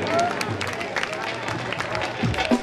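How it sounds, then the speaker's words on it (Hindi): An audience claps at a Bhagwati jagran devotional night in Vasant Vihar, Delhi, a dense steady patter of many hands with crowd noise and a tonal musical hum underneath, swelling slightly near the end. "एक बार मीठी मीठी ताली बजा दीजिए,"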